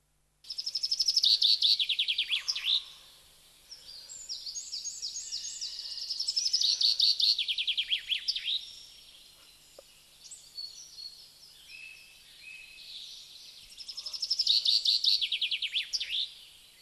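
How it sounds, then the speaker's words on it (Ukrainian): A chaffinch gives repeated short, bright chinking alarm calls in quick bursts, with pauses between, against a quiet forest background. "ми чуємо короткий чинь-чинь, чинь-чинь. Це турбується зяблик"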